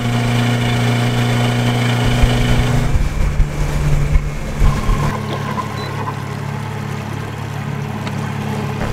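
A fishing boat's outboard motor idles on muddy water, a loud, steady low hum with a faint shift in tone partway through and light water sounds, no voices.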